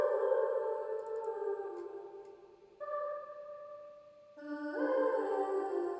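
Vocal sample pattern with a distant, airy tone, built from sustained synthetic voice tones that shift pitch in steps, trailed by echoing delay repeats, played alone as part of a hard trap loop.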